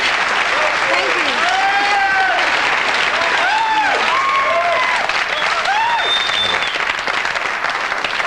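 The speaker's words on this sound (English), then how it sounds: "People are still applauding the monologue." A studio audience at The Tonight Show with Johnny Carson applauds steadily and loudly throughout, with dense sustained clapping as voices and a sung phrase rise over it.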